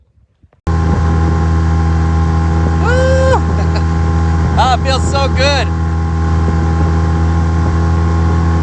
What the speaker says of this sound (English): Outboard seems to be running good.